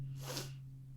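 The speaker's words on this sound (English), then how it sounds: "Sorry, I sneezed." A person sneezes once, a short breathy burst close to the mic that tails off quickly over a steady low hum.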